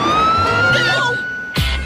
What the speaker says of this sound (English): No, but there's a police car.